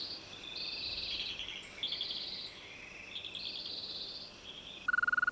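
Male European green toads calling from a water body in spring: continuous high, sustained trilling calls that overlap and alternate for several seconds, fairly loud and steady, with no voices present.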